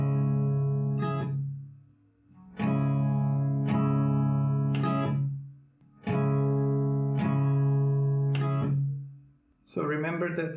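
Electric guitar strumming the chords of a song, several sustained strummed chords ringing loud and close with short pauses between bars, ending in a quicker rhythmic strum, alone without talk.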